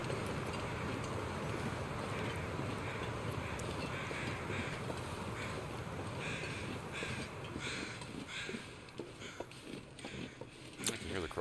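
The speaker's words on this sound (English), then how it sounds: "I can hear the crows finally." Crows cawing in The Long Dark survival game on a snowy mountain route, harsh repeated calls over a steady wind-like background, with a person talking over them.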